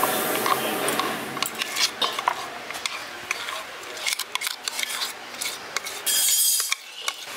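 Finely ground lentil paste is scraped out and poured into a bowl, with close, irregular scraping and clinking of a utensil against the dish, rising to a brief rapid rasp near the end.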